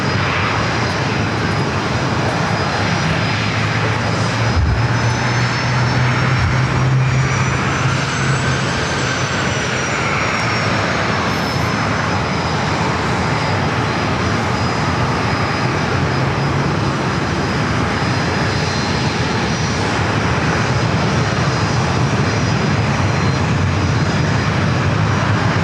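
Airliner taking off from runway 27 at San Diego airport, a loud, sustained engine roar with a rising whine that swells and holds steady for the whole stretch, no voices over it.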